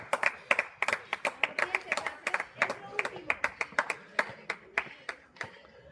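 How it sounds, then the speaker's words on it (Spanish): Spectators clap for runners along the course of the Artxanda Urban Trail race, sharp separate handclaps in an uneven, quick rhythm, close and fairly loud, with voices calling out between them. "Venga, ese aplauso."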